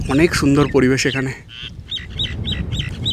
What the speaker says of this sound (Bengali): পাখিগুলো ডাকছে, কি সুন্দর লাগছে পাখিগুলোর ডাক।